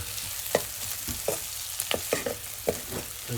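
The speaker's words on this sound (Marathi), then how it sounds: "कांदा एकदम लालसर परतून घ्यायचा आहे" Onion sautés in a pan for pav bhaji over a wood-fired stove, a close sizzling bed broken by several scraping stirs and clinks of a spoon against the pan.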